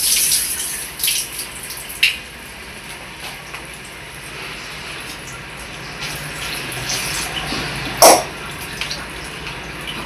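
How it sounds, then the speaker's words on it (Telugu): Tamarind being washed under a running kitchen tap, a steady rush of water into a sink with a couple of brief clinks of a vessel, close and continuous. "చింతపండుని ఒకసారి కడుక్కొని తర్వాత మళ్ళీ వాటర్ పోసి నానబెట్టుకుంటే బాగుంటుంది."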